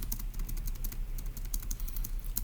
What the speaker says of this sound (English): let me type up